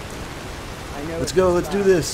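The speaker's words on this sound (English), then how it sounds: "If it would ever just stop raining." Steady rain hisses over a Skyrim game world throughout, with a voice cutting in over the downpour in the second half.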